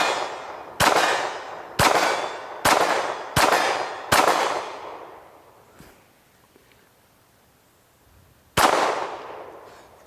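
Sharp, loud pistol shots from a SAR B6 at a shooting range: five reports in quick, evenly spaced succession with ringing decay, a pause with faint clinks, then one final shot.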